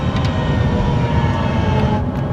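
A steady, loud, high-pitched engine-like whine drones continuously with no pauses, like a revving motor held at high pitch: a simulated high-revving V8 or V10 engine sound from a Hyundai Ioniq 5 N electric car.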